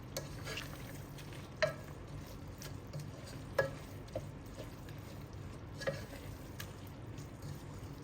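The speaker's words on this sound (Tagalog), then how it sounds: "Haluin lang siya ng haluin." Bagoong alamang shrimp paste and pork being stirred in a pan, with a soft steady sizzle under occasional light scrapes and taps of the utensil against the pan, fairly quiet throughout.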